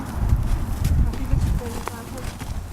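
A horse's hooves clip-clop on the ground during rider training, with soft irregular thuds in uneven rhythm and a person talking over them.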